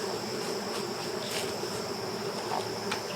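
Honeybees swarm close around the strongest hive in a beekeeper's yard, producing a dense, continuous buzz with wingbeats darting past.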